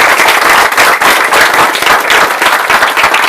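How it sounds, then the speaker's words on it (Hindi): A dense, loud burst of audience applause at an inspirational student speech event, many hands clapping continuously and close by with no pause, no talking over it. "Let's give a big hand for her."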